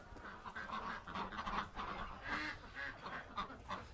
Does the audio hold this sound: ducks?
yes